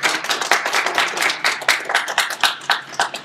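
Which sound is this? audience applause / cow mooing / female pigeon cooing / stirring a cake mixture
audience applause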